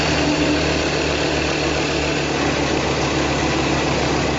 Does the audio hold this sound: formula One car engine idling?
yes